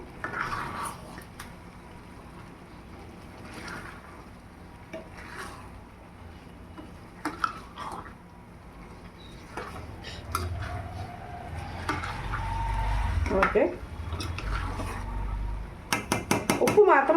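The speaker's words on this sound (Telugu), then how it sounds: "ఇప్పుడు కలిపేద్దామండి అంతా ఒకసారి" Egg upma being stirred and mixed in a pan with a utensil, giving scattered clinks and scrapes against the metal that grow busier and louder toward the end, with a voice speaking over them.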